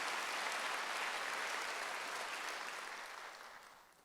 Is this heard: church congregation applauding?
yes